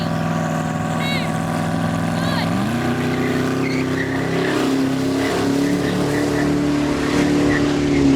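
A Ferrari SF90 XX racing a Koenigsegg, loud engine roar with a rising pitch as the cars accelerate through the gears, sustained and close throughout.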